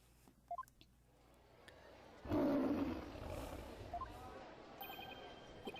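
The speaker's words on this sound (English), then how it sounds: "It's the cry of a local bird known as a warbad." A warbad, a bird in the game Ace Attorney Spirit of Justice, lets out a loud, sudden lion-like roar midway through, after quiet ambience and a few short electronic beeps, with chirping game tones near the end.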